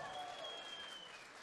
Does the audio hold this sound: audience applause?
yes